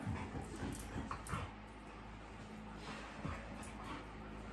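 A dog whimpers faintly in the background of an indoor full-body strength workout, with soft intermittent whines and yips sitting low under steady room noise.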